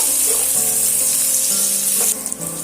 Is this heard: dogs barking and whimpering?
no